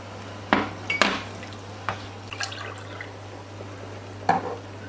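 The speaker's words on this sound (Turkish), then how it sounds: "Şimdi fasulyeleri de ekleyelim." Beans tipped into a cooking pot for Greek-style bean pilaki, with clattering pot and utensil knocks and light watery sounds over a low steady hum.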